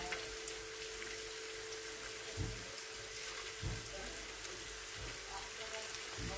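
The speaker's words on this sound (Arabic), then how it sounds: "هلا عم بلش بقليهم حميت الزيت وعم بطبهم شوي شوي" Kibbeh dropped into hot oil over medium gas gives a steady close sizzle and crackle, with a few soft thumps as pieces go in.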